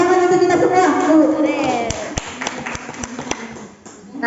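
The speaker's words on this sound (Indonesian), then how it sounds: "Tepuk tangan untuk kita semua." Someone speaks first. Then, at a teachers' training session, a few sparse, separate hand claps ring out close by.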